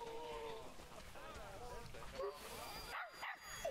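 A dog-like animal in the Planet Zoo video game gives a series of short barks and yips, with someone talking over much of it.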